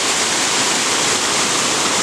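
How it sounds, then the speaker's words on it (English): A landscape waterfall built from gold-toned boulders in Pleasanton, California, running on reclaimed water, pours as a steady, dense rush of white water that fills the whole stretch, close and unbroken, with no voices. "I saw this really nice waterfall."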